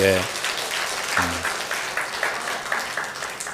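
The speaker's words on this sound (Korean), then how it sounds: "우리 태연이 휴가 나왔으면 박수하세요" A church congregation applauds during a Sunday morning Methodist worship service, a steady burst of clapping from many hands filling the room, with a voice speaking briefly over it at the start and again about a second in.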